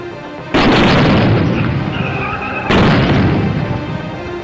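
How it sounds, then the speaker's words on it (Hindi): A controlled blast detonates near a VIP car: two loud, sudden booms a couple of seconds apart, each a sharp broadband burst that decays into a long rumbling tail over background noise. "इस कंट्रोल्ड ब्लास्ट से इस वीआईपी कार के पर खच्चे उड़ जाते"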